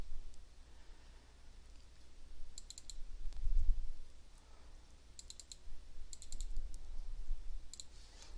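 Computer mouse clicks while inserting an image into a document, a few soft, quick clicks in small clusters spaced across a quiet room with low background hum, no talking.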